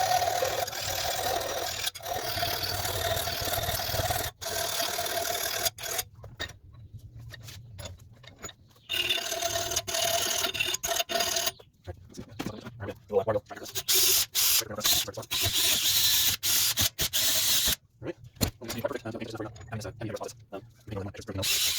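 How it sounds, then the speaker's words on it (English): Sandpaper scrubs over a rusty tailgate window part from a 1996-2002 third-generation Toyota 4Runner, a loud, close, continuous rasping broken by brief pauses. "I'm probably going to sand this down and give it a good quick paint job to prevent it from rusting again"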